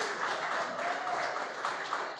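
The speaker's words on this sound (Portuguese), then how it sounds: "Só os homens aplaudindo agora." Men in a church congregation applaud together, a dense, steady wash of clapping that holds evenly throughout without speech.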